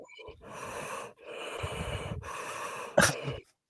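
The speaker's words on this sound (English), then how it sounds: "Oh, I do love a heavy breather." Heavy breathing over a phone call: a run of loud, rasping breaths with brief pauses between them, ending in one sharp, forceful burst before the line goes quiet.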